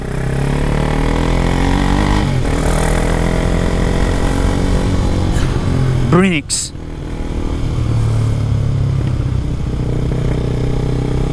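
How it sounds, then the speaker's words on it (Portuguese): A motorcycle engine starts in the street and revs as the rider pulls away, loud and close with a sharp rising whine midway, while someone talks over it. "Não só ligar a moto no meio da rua, como já liga e sai."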